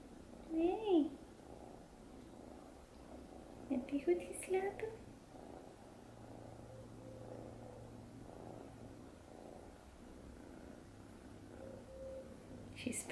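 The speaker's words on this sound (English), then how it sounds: "She's purring like crazy." A cat purrs softly in a low, continuous rumble close to the microphone, with a few short high-pitched vocal sounds and brief soft voices breaking in now and then.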